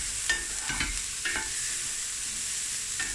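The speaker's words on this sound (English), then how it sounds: "of corn flour to cold milk. Okay, it must be cold milk. And stir that there." A spoon stirs corn flour into cold milk, soft scraping strokes against the container repeating a few times, close by, over a steady sizzling hiss of food frying in the kitchen.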